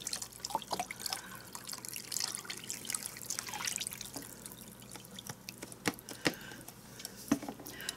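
Beef broth poured into a slow cooker, a soft, faint trickle and drip of liquid with scattered clinks and splashes, close by and without talk.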